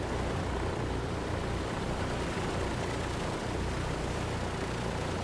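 The left engine of a Douglas DC-3 in Microsoft Flight Simulator 2020 runs at 1000 RPM, a steady, loud, broadband propeller drone with a low rumbling throb that holds constant throughout.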